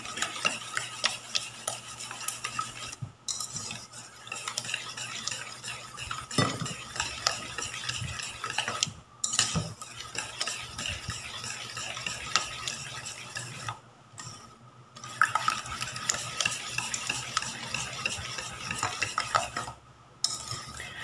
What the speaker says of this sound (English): Then mix it like this until the sugar dissolves. Mix it very well.